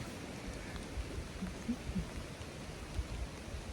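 Steady soft rain falls around a hiker on the Appalachian Trail, a quiet even patter with a few faint low thumps and no talking.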